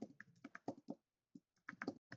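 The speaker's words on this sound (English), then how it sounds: "Are you typing it in, Tam?" Keys clatter on a computer keyboard in short irregular bursts, a quick run of clicks, a brief pause, then another flurry, close and moderately quiet with no talk over it.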